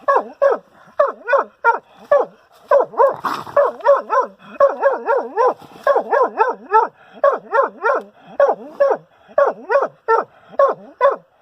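A hunting cur barks at a raccoon up a tree at night, firing rapid, loud, close yips in a rhythmic string with brief pauses, sometimes rising into whining cries.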